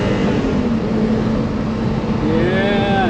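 A BMW M1 engine runs steadily from inside the car during a ride, a close droning growl with rising whine as revs climb toward the end, while people talk over it.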